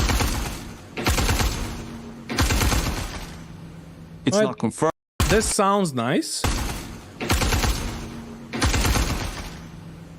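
Heavy bursts of gunfire ring out in the space game Star Citizen, with delayed echoes bouncing back off the ground. Several long volleys repeat, and a voice speaks briefly in between them.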